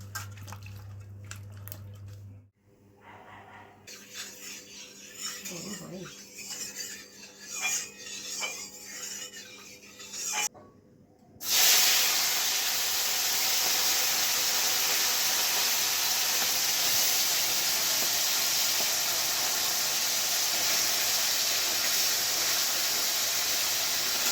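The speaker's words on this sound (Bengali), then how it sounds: "মা প্রথমে আমুদি মাছগুলোকে ভেজে নিয়েছে।" Amudi fish frying in a pan: after some clatter and a brief pause, a loud, steady, close sizzling hiss runs continuously to the end.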